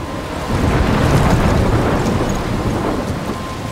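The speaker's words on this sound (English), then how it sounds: "I'm trapped in a storm?" A thunderstorm in the video game Life Is Strange gives a loud, close, steady rumble of thunder over dense rainfall that swells after a quieter start and holds throughout.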